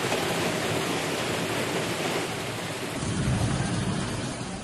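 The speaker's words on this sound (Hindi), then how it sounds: "मानसून की दस्तक के साथ गांधीनगर में जमकर बादल बरसे।" Heavy monsoon rain pours down over Gandhinagar, a steady, dense roar of broadband noise that swells slightly louder in the last seconds, with no voices.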